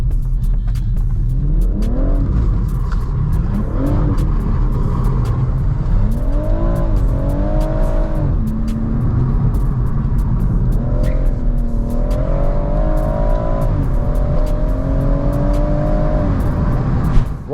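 A BMW M140i engine revving and accelerating hard, loud and close, the pitch climbing repeatedly through several gear pulls with brief dips between them, alone without talk.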